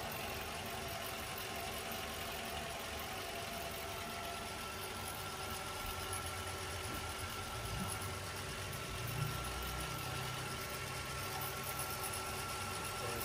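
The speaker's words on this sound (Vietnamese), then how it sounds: "Rất là mới, máy nổ cũng êm luôn." A 2010 Toyota Camry LE idles with a smooth, quiet, steady engine hum. The low rumble holds even the whole time with a faint mechanical ticking and no talking.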